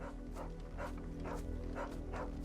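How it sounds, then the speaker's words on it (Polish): A dog in the video game Final Fantasy 16 barks repeatedly, about five evenly spaced woofs at a moderate distance over a steady low background hum. "Na co tam szczekasz?"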